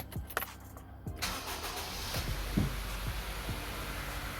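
A 2005 Honda CR-V petrol engine cranks and catches after a brief metallic jingle, then settles into a steady close idle that runs on alone to the end.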